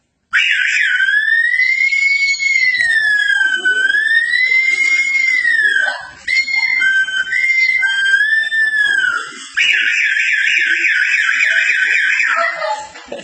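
A human voice imitates an ambulance siren with a loud, close, high wailing tone that sweeps up and down, breaks briefly and then resumes in a sustained higher pitch.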